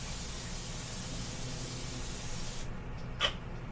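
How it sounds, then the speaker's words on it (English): Cooking spray hisses from a can into a pan on a stove, a steady close spray of noise for a few seconds that cuts off, followed by a small click. "Put a little bit of cooking spray in it."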